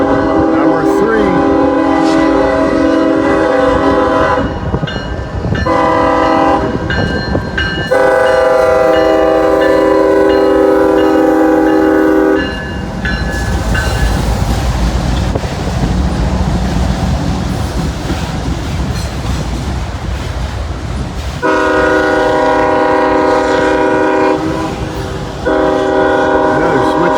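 Freight train passing under bright sunshine, its horn blaring in long, loud chord blasts separated by stretches of rumbling, clattering rail noise, with the horn sounding again near the end.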